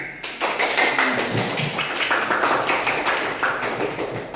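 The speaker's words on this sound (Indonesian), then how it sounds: "Kita tepuk tangan untuk kelompok 1 yang sangat bagus hasil presentasinya" A junior high classroom of students applauds a group presentation, dense steady clapping from many hands lasting about four seconds, close and loud.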